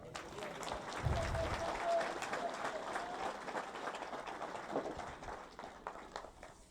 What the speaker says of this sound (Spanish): ¿Cuántos dan palmas a Jesús?